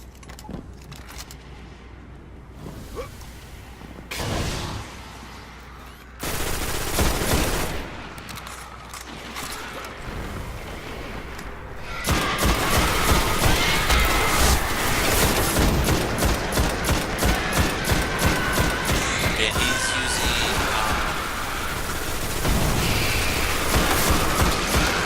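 Scout rifle from Destiny on PS4, upgraded to fire fully automatic, in the Crota's End raid: sporadic shots early, then a long, loud stretch of rapid continuous gunfire with mechanical clatter and booms.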